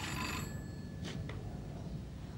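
A telephone bell rings in a steady electronic trill, fairly close and clear over a constant low background hum, with no one speaking.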